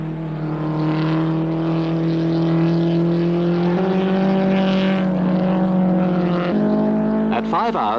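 A race car pulling away from the pits during an endurance race, its engine droning loudly and climbing through gear changes, with a narrator speaking over it.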